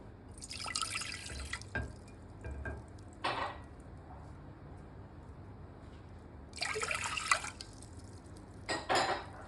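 Two cups of water splash and pour in a few separate bursts into a metal pot for kunafa syrup, with quiet pauses between pours, close by and without talking.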